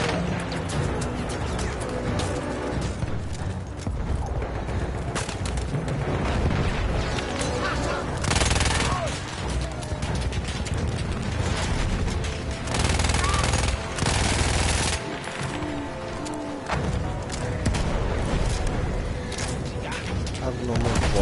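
Rapid gunfire from a gun in a PS4 video game: dense bursts of shots and booming impacts run nearly throughout, loud and continuous, with a voice present underneath.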